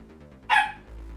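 A single sharp dog bark in the video game Danganronpa 2, one short clear yelp over a faint low background, with no talking.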